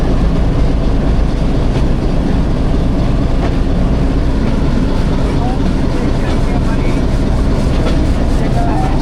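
Millat Express pulling away from Sargodha Junction, a steady loud rumble of rail cars with faint clatter throughout, under a murmur of voices.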